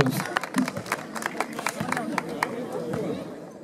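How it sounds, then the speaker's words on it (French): Brief patter of applause from an auction crowd in Aveyron, scattered claps amid lively chatter and voices in a busy room. "On applaudit!"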